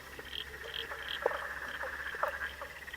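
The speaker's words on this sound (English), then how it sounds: "There's a whole symphony of frogs calling there" Many frogs call at once in a field recording, a dense chorus of overlapping chirps, clicks and croaks of several species, soft and moderately distant over a low background hum, with no voices.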